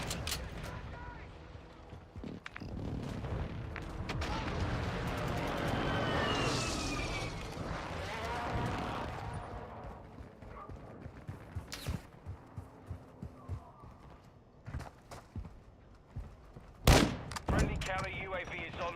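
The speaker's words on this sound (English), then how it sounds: "Friendly airstrike on the way" Call of Duty combat roars with a friendly airstrike and gunfire: a rushing, swelling blast of noise builds and fades, then scattered sharp shots and bursts crackle, with one loud crack near the end, alongside game voices.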